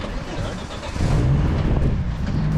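A 1990s Volvo 850 engine fires up partway through and settles into a steady, close idle hum after a muffled buildup, with voices talking nearby.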